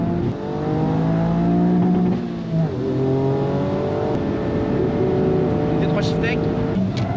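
A Toyota Yaris GR engine accelerates under load, its pitch climbing and dipping through shifts. The sound is loud and close, heard from inside the car, and a person talks over it.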